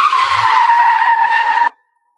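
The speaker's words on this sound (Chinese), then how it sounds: "厂子门外响起了汽车声" A car pulls up outside a factory gate, its tires giving a loud, sustained screech that cuts off abruptly into silence.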